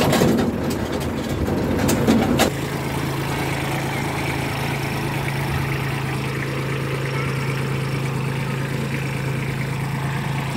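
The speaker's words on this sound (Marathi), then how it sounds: "तुम्ही पाहू शकता आभी आपला ट्रॅक्टर चालवत आहे" A Kubota B2441 tractor engine running steadily with a low, even drone and a constant hum, preceded by a few sharp knocks in the opening seconds.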